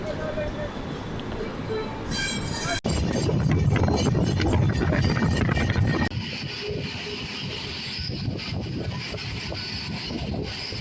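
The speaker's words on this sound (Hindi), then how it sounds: "ये हम लोग चल चुके हैं स्टेशन से हमारी ट्रेन निकलते हुए।" A passenger train pulls out of a railway station near Mirzapur, heard from on board as a steady rumble and rattle of wheels on track with a brief higher clatter, while people talk faintly throughout.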